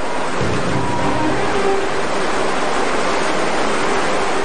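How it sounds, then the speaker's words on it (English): Turbulent whitewater at Hermit Rapids on a river run by rafters, a dense unbroken roar that holds at a constant loud level throughout, with no voices. "Hermit Rapids is a trough of water so turbulent, many rafters don't even try it."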